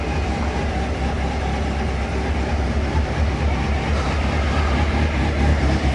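A cold Honda CB600F motorcycle engine runs at a steady idle, a continuous loud low rumble with no revving or breaks, heard close and alone.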